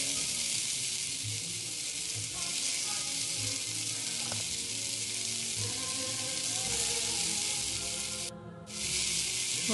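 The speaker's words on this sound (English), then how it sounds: "you want to sear both sides of the meat" Beef searing in a hot pan for a stew, with a steady broadband sizzle that holds at an even level throughout and a brief dip near the end, with no talking.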